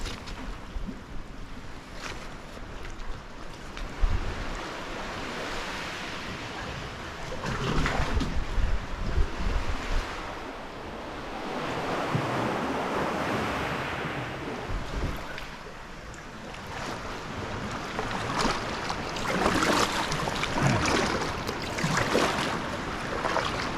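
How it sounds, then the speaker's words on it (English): Waves washing onto a small hidden sandy beach on an island shore, a steady outdoor wash of surf with wind, rising and falling in broad surges with no voices. "Here's a little beach, a little hidden sandy"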